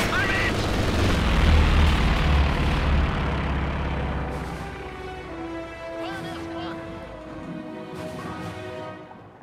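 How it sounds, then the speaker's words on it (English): German Stuka dive bombers strafe targets in Company of Heroes 2, with loud explosions and gunfire at the start that die away into a fading rumble and a lingering tone. "Stukas on their way to strafe the enemy."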